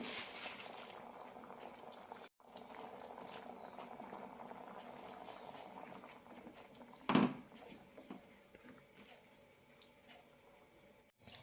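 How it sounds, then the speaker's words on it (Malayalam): A pot of coconut-light Kerala chickpea curry boils away with a continuous quiet bubbling and popping, broken by one brief louder knock midway; no voices are present. "കറി നന്നായി തിളച്ചിട്ടുണ്ട്"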